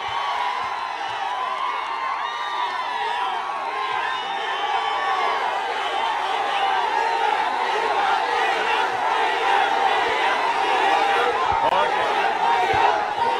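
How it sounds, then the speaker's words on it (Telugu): A large crowd at an NTR centenary political rally claps, cheers and whoops loudly and continuously, a dense roar of hands and voices. "కానీ ముందు గట్టిగా చప్పట్లు కొట్టి ఈ కమిటీని అభినందించండి"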